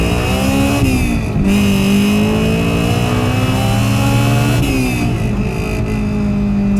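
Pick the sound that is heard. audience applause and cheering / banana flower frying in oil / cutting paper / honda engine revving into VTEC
honda engine revving into VTEC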